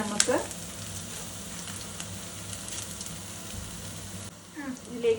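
Vegetables sauté in a hot pan, giving a continuous sizzling hiss with a couple of brief utensil clinks, close and moderate in level, the frying briefly dropping away near the end.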